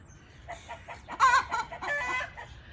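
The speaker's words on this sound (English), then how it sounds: "All this singing is coming from a rooster inside the coop" A rooster crows inside a coop, one drawn-out, fairly close call that swells in the middle and trails off, with low background rumble and no talking.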